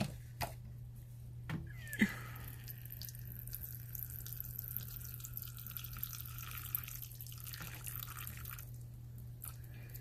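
Water trickling and splashing from a tap into a sink while a dish is filled for a pet tarantula, a faint, steady running stream with a few sharp clinks and drips near the start over a constant low hum.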